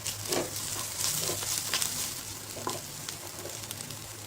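Mixed vegetables with frozen peas fry in butter with ginger garlic paste in a pan, a steady close sizzle with occasional stirring scrapes running throughout.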